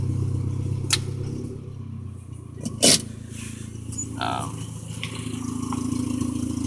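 A 1996 Geo Tracker engine idles with the air conditioning running, a low steady rumble with light rattles and a few brief clanks and shifts in tone.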